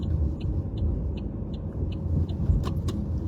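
Cars moving through road traffic, a steady low rumble with a rhythmic faint ticking on top and a couple of brief higher squeaks near the end, with no talk.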